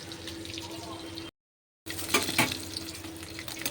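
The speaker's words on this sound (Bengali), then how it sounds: "দেখতেই পাচ্ছ আমি মাছগুলো ভেজে নিয়েছি, লাল লাল করে ভেজে তুলে নেবো" Fish sizzles as it fries in a pan, a steady crackling hiss that breaks off briefly and then returns louder with stirring and scraping.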